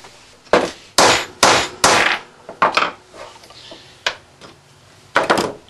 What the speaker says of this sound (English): I've finished off driving in the T-nuts in both knobs and the adjuster, tuner, screen holder